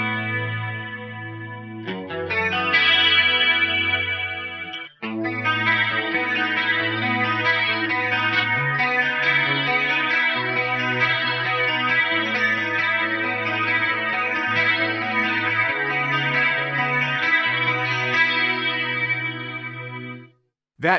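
Clean electric guitar run through an Eventide H9 Tricerachorus with detune added, giving a lush, shimmering chorus on sustained chords and notes that ring steadily for about twenty seconds before stopping, played alone without talk.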